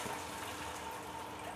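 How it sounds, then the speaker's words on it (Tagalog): Water poured into a pan of tilapia simmering with tomatoes, a steady close rushing splash lasting the whole short stretch with no talk. "Lagyan natin ng tubig."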